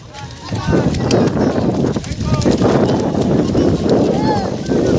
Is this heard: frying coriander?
no